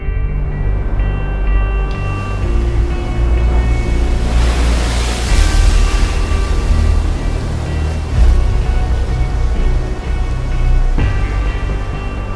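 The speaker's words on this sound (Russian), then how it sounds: "и сделалась на море великая буря" Staged theatrical storm at sea: a continuous loud roar of wind and crashing waves, with surges building around the middle and again near the end, no voices.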